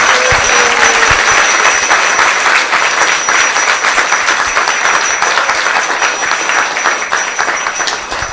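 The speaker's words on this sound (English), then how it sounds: "So let's give them a round of applause." Loud, sustained audience applause at a Vyasa puja celebration, a thick wash of many hands clapping continuously for over eight seconds, tapering slightly toward the end.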